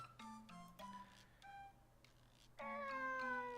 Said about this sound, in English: A cat? There it was, laying across the stone step, licking and grooming itself.